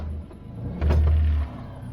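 A Kawasaki Mule Pro-FXR utility vehicle moving off, its engine holding a low hum before a brief louder surge in the middle, then settling back; no voices.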